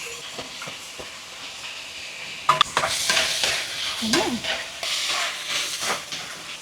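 Chicken and corned beef sizzle in a pot for sopas while a utensil stirs and scrapes, with bursts of louder frying partway through and a brief spoken word.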